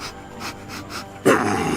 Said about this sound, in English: Why is there even a rabid dog in this neighborhood?